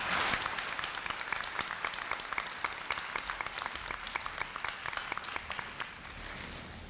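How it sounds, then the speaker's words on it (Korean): Sustained applause from an audience at a university entrance ceremony for new students, welcoming a speaker with dense, steady clapping that fills the hall throughout. "큰 박수로 맞이해 주시기 바랍니다"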